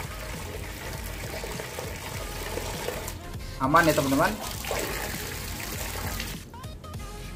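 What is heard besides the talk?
water leaking from a hose and tap connection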